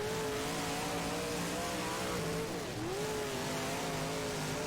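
A race car engine in the rFactor sim, at an iMods event at Glenridge, revs steadily and close with rising and falling pitch, a brief lift mid-pass, and faint tire squeal, with no talk over it.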